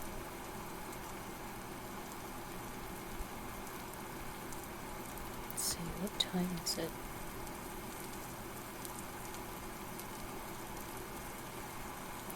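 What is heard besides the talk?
rain pouring down in Vintage Story video game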